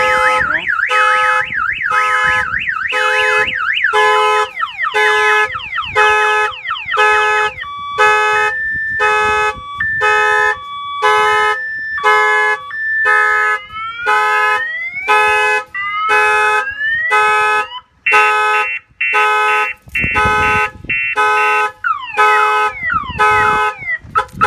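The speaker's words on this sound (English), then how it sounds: "He'll get the text alert when the alarm fires off." A Jeep car alarm wails nearby after the glass is struck, cycling loudly through different rapid warbling and beeping tones for a long stretch without pause.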